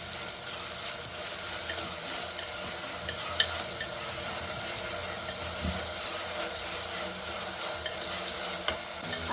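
Onions with salt frying in a pan, stirred now and then: a constant low sizzle with occasional scraping clicks of a spoon against the pan, close and unbroken, no talking.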